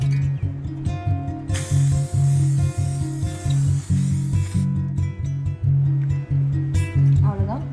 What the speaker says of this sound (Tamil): இதுதான் வந்து ஃபிக்ஸேட்டிவ் ஸ்ப்ரே.